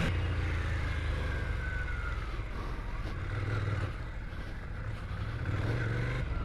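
A 2021 Ducati Scrambler Desert Sled motorcycle being ridden over potholed road, its engine droning and rising in steady pulses with wind rush, close and fairly loud, no talking.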